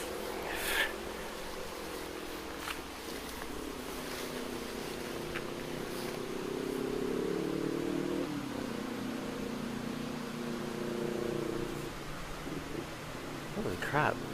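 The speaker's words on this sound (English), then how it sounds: "that motorcycle sounded like it was coming up one of the trails" A motorcycle passes on a nearby road outside, its engine droning and rising then falling in pitch over several seconds, a steady mid-distance roar heard outdoors.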